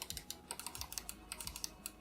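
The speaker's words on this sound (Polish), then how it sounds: "Taki dość twardy klik przy dużym skoku, ale siła nacisków wcale nie taka duża." Main buttons of a Glorious Model D3 Wireless gaming mouse are clicked over and over, giving sharp, firm, close-up clicks in an irregular quick rhythm with no talking.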